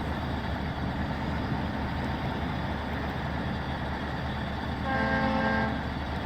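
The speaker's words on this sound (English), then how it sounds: "The horn does not seem very suiting, though." A MAZ 7907 20-wheel-drive heavy hauler in SnowRunner sounds one short horn blast of about a second, loud and tonal, over a continuous low engine drone.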